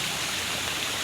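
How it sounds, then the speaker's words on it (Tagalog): Strong-flowing creek water rushing in a steady, dense broadband roar, close and continuous, with no voices. "Na kusog ang tubig."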